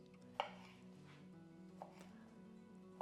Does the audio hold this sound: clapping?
no